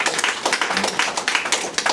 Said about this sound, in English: don't be afraid to give them a round of applause again